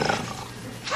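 A voice imitates a bear's growl in a short, rough, rumbling snarl, close and moderately loud.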